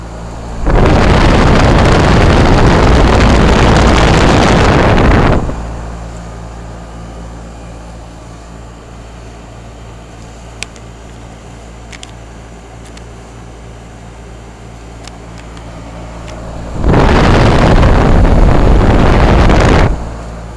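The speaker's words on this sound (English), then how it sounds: "This one is a heat pump." A 2005 Trane XR11 2.5-ton heat pump in cool mode, heard outdoors. It gives a loud broadband roar for about five seconds, then a long quieter stretch, then another loud roar near the end.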